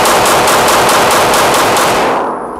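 A Daniel Defense H9 pistol fired rapidly, a loud, close string of about ten evenly spaced shots with no pause before the echo fades.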